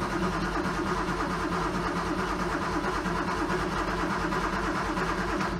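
A Porsche Carrera RSR race car engine cranks over and runs with a loud, constant mechanical drone, steady and close throughout with no talking.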